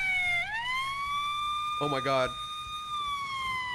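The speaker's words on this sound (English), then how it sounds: "Is there like a police car pulling up somewhere?" A police car siren wails nearby in a steady rising and falling tone, with a short burst of yelping warble partway through. A voice briefly exclaims over it.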